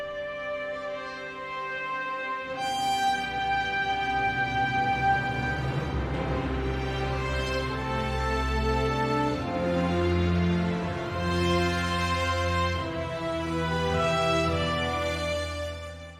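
Classic Hollywood-style lyrical theme with a noble, majestic character: a sustained orchestral passage that opens softly, then swells into full, rich chords and a broad melody, continuous and loud with no voices.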